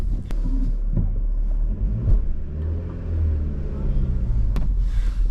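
A Nissan car with a suspect clutch pulls out onto the road, its engine giving a steady low rumble with a couple of sharp clicks and faint voices in the background.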